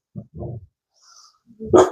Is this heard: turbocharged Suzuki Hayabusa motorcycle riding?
no